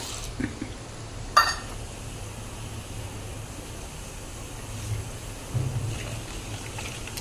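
Mustard seeds splutter in hot oil together with fenugreek and cumin, a tempering for a mango pickle. A dense, steady crackle carries a few sharper pops, heard close with no voices.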